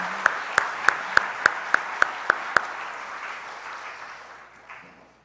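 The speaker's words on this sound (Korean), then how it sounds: "우리 선생님들을 위해서 다시 한번 큰 박수로 한번 이들을 축복합시다" A church congregation applauds its teachers in a warm, dense burst of clapping with a few sharp claps at the start, gradually fading out over several seconds.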